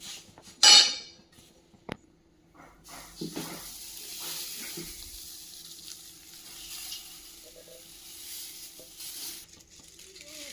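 Moringa leaves roast in a pan while being stirred, giving a soft steady sizzle and hiss with a few sharper scraping clinks near the start.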